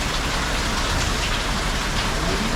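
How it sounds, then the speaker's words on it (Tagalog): Heavy, nonstop rain pours down outside where cars are parked, a dense, steady roar of drops with no letup, loud and close with no voices. "Walang tigil ang ulan."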